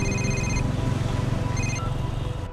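A phone rings and goes unanswered, a steady electronic ringtone playing in two repeated bursts over a constant low hum, clear and close with no talking.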